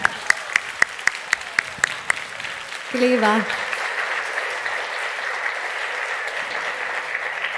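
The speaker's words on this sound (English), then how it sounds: "One big round of applause for Scoil an Taobh Siar." A school group, Scoil an Taobh Siar, receives applause from the audience at a Gaelic singing, storytelling and céilidh band competition night. Steady crowd clapping builds after a few sharp claps and brief talk, then holds evenly.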